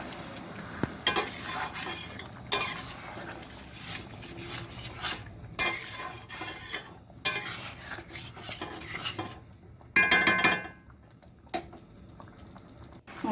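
Mutton being stirred and braised with strong liquor tea instead of water in a pressure cooker, with a spoon repeatedly scraping and clinking against the metal amid a soft sizzle, steady and close, no talking.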